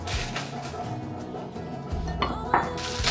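Ceramic serving plates, bought new for a new apartment, are handled and set down, giving a few clinks and knocks of dishware close by; there is no speech, just soft handling noise between clatters.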